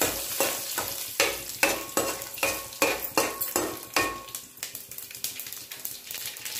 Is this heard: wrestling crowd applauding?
no